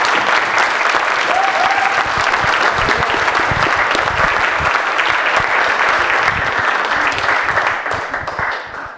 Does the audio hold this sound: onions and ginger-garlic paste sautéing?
no